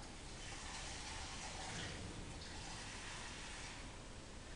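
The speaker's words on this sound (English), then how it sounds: "I'm just going to add a bit of water and put that on the hob" Tap water pours into a pan for a bain-marie, a soft, steady, faint hiss of running water lasting several seconds without talking.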